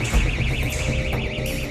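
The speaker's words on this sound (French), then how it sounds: "Un boîtier permet de détecter la présence d'un gaz anormal et déclenche alors une alarme" A gas detector alarm sounds in the Paris sewers, a steady electronic tone with a warbling pitch that continues loud and unbroken over low rumbling background noise.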